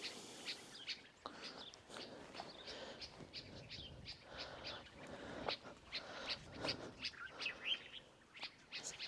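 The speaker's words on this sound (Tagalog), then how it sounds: "Ang ganda ng mga ibon." Small birds feeding on pomegranates near Taif in Saudi Arabia chirp and tweet in quick, overlapping bursts, close and lively, continuing throughout with no talk.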